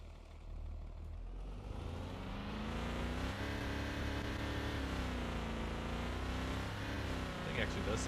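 A car engine revving in the Car For Sale video game, on a car with flames shooting from the exhaust; a moderately quiet, steady motor drone whose pitch climbs and dips as the throttle changes.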